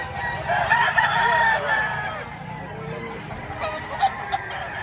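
At a chicken market in Padre Garcia, Batangas, roosters crow close by in drawn-out calls, with scattered clucks and a few short squawks from chickens in between.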